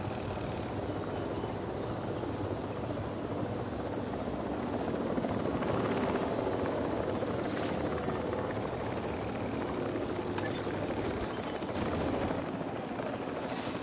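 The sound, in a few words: helicopter returning in video game Jurassic World Evolution 3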